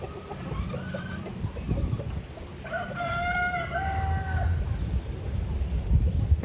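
A rooster crows loudly in the middle, a drawn-out call over background clucking and scattered farmyard noise.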